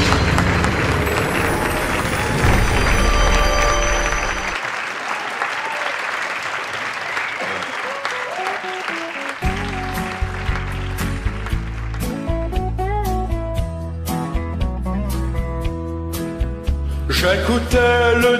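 Loud audience applause and cheering at a charity gala show fills the opening seconds, then music begins and carries on with a strong beat.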